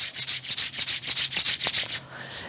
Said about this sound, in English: rub them together.